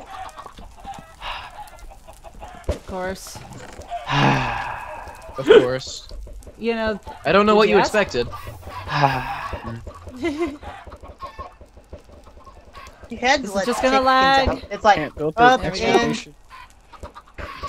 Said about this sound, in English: Please stop spawning chickens.